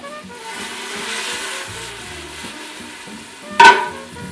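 Chopped vegetables, basil, parsley and spices for pasta fazool sweat gently in a pot, giving a soft, steady sizzle with occasional stirring and a brief clink of a utensil against the pot near the end.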